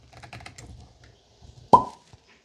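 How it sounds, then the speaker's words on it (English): A cork pulled from a bottle of Sagamore rye whiskey gives one sharp, close pop, preceded by soft handling and rustling noises. "Here we go for the cork pop."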